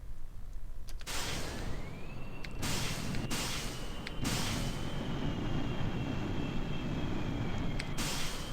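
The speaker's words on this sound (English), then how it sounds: "I want to try the afterburner mode here" A jet engine in afterburner mode roars in the Kerbal Space Program video game. Sharp bursts of noise come first, then a rising whine settles into a sustained, moderately quiet rumble.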